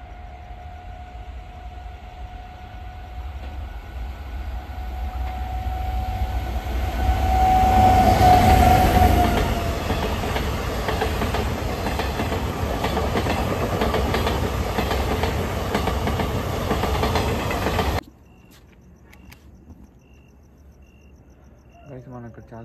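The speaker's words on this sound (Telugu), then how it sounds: "ఇంకో ట్రైన్ ఏదో వస్తుంది" A train runs along a railway track at a dangerous crossing point, a loud, steady rumbling roar lasting well over fifteen seconds before cutting off abruptly, leaving faint insect chirping.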